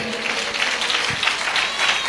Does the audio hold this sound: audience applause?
yes